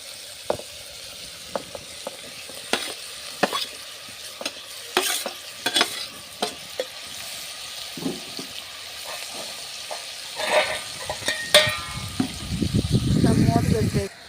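Tomatoes and ivy gourd stirred in a frying pan, scattered clinks and scrapes of a spatula over a low sizzle, then a louder burst of hissing and bubbling near the end, close.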